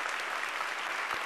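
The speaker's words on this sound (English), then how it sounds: "Please stand and join me in giving a round of applause to welcome Professor Nash" Short, fairly faint patter of audience applause in a university hall, welcoming Nobel laureate Professor John Nash to an open dialogue.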